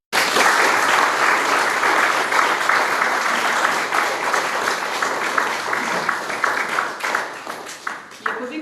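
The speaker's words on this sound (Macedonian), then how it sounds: "Ве молам да ги наградиме со еден аплауз." Sustained applause from an audience at a cultural event celebrating a tenth anniversary, steady dense clapping that thins and becomes more scattered toward the end.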